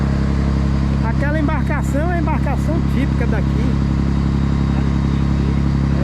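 A steady low motorboat engine drone hums on the Amazon River throughout, with someone talking over it.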